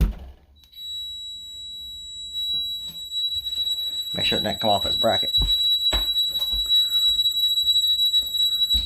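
A Honeywell security alarm panel, triggered by an opened laundry-room window, holds a steady high electronic tone throughout while someone talks nearby over handling noises.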